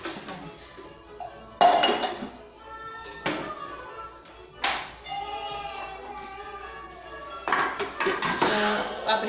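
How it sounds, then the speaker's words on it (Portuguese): Dishes, pots and cutlery being washed at a home kitchen sink after dinner, with a few loud clattering bursts of clinking crockery over running tap water, fairly close. "Aí eu vou lavar aqui a louça já pra ir adiantando"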